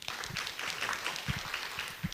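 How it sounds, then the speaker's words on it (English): Faint, distant applause from a symposium audience: a soft, steady wash of many hands clapping that fills the short stretch. "please give a round of applause"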